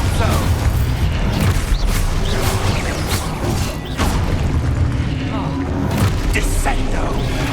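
Repeated booming blasts and crashes of the Expulso explosion spell in Hogwarts Legacy erupt amid combat, mixed with rapid bursts of other spell impacts and a voice calling out spell names.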